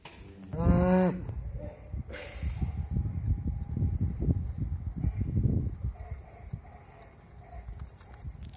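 A cow moos loudly in a barn, a short sustained call near the start, followed by a second brief call, then shuffling, hoof steps and general stall noise continuing to the end.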